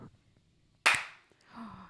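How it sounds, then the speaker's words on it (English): A single sharp hand clap cracks out in a podcast studio, loud and close, followed by a brief murmur. "Oh, we got a clap."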